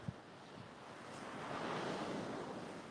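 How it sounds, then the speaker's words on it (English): Ocean surf rolls onto a beach at Panama City, Florida, a broad steady wash that swells louder midway, with wind rumbling across the microphone. "The surf is getting higher and higher, which is good."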